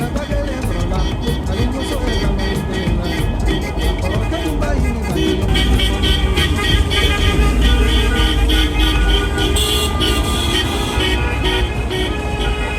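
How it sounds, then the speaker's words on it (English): Busy street traffic in Batumi, Georgia, with car horns honking repeatedly for a passing wedding procession, loud and continuous, layered over engine rumble and background voices. "it's a custom to honk the horns when a wedding procession moves through a city"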